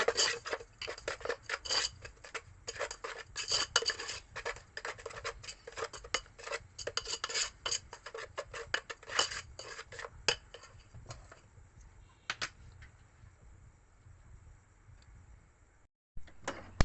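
Mango pieces mixed with salt in a bowl, giving a busy, close run of scraping, rubbing and clinking of utensil against the bowl that thins out into sparse taps toward the end.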